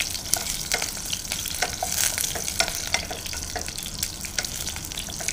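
Brinjal pieces stirred in hot oil in a pan for a vankaya corn masala, giving a steady close sizzle broken by frequent scraping clicks of a spoon, with no voices.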